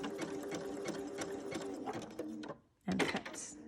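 A sewing machine runs close by, stitching a fabric face mask with a rapid, steady mechanical whir and needle chatter, stops briefly, then restarts for a short final burst.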